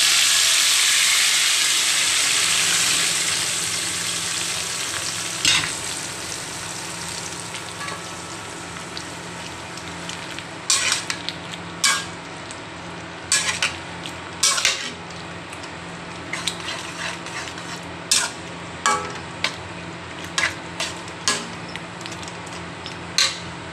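Taro leaves hit a pan of hot oil already frying garlic, onion and a torn dried chili, giving a loud sizzle that settles into a steady hiss. Repeated sharp clinks and scrapes of a spoon stirring against the pan follow, with no voices.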